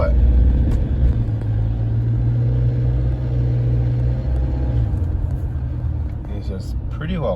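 A Toyota Hilux diesel engine idles with a steady, loud low rumble that holds close throughout and eases slightly toward the end, with a voice talking over it.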